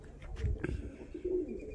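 Domestic pigeons kept by a Turkish bird fancier coo softly, low rounded calls close by, with a brief flutter and then a second drawn-out coo, fairly faint against a quiet background.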